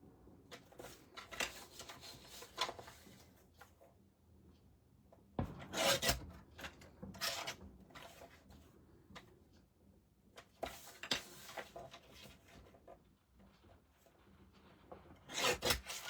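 Pattern paper offcuts being cut to size for a photo mat, with intermittent close scraping and rustling strokes in short bursts and quiet gaps between them.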